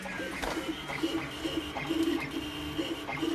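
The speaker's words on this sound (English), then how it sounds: "I'll be printing right now." A 3D printer's stepper motors whir and chirp in short repeating tones, steady and fairly quiet, with faint background noise.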